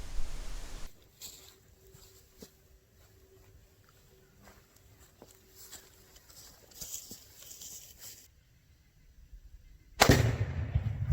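A rifle with a 3x9 scope and bipod firing at Tannerite targets at a pumpkin shoot: sparse, sharp cracks over quiet outdoor air, ending in a sudden loud, close blast.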